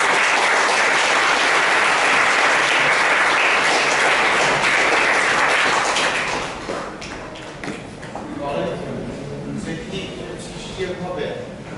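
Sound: audience applause after a presentation

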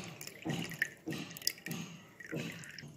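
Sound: whey draining from curdled milk through strainer

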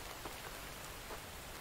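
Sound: rain in video game The Infected

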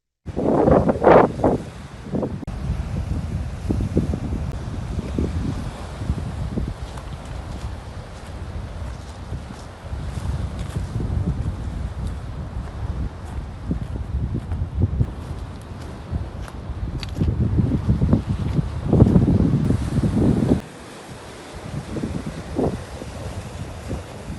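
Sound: strong lodos wind and rough sea waves on İskenderun coast

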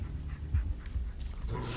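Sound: dog panting in the video game Blair Witch

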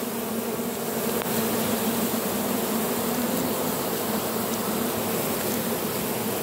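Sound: swarm of European honey bees

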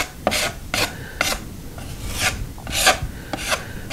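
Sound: smoothing spackle on a wall with spackling tools

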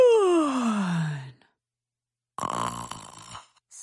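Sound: voice imitating snoring

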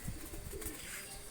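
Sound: flying pigeons cooing

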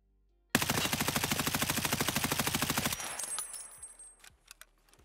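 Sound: suppressed M4 rifle firing full auto in video game

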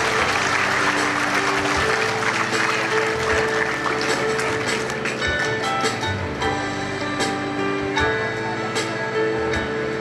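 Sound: audience applause at taekwondo black belt ceremony

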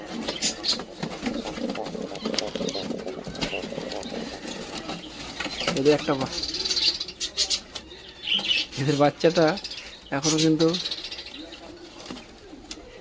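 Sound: native pigeons cooing

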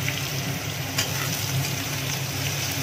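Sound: frying carrots for fried rice

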